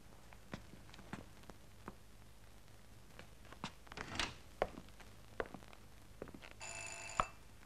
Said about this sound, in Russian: Мам, звонок.